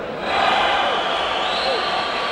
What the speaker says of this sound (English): This King's Hall crowd still on their feet, still applauding that man